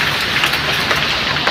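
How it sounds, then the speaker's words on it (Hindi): Heavy rain pouring down onto a flooded road, a loud steady hiss of drops splashing on water and surfaces, continuous and close with no voices. "देखिए बारिश हो रही है और रोड पूरा भर चुका है"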